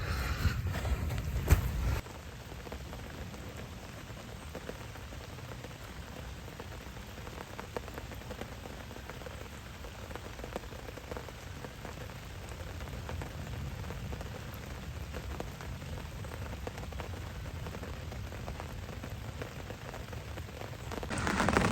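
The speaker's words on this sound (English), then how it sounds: "I don't know if you can hear me, but it's pissing down." Heavy outdoor downpour at a carp fishing lake, a steady dense hiss of rain drumming on surfaces with faint wind buffeting the microphone, continuous and close for the whole stretch with no talking.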